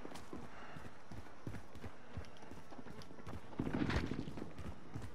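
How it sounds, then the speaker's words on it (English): Footsteps in the Modern Warfare video game, a quick series of light tapping steps in a rhythmic run over steady background game noise, growing louder and denser near the end. "I hear footsteps"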